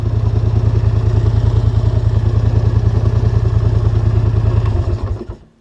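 A John Deere 4240 tractor with a loader runs close by with a loud, steady, rapid diesel chug and clatter, then cuts off and fades out over the last second. Nobody talks over it.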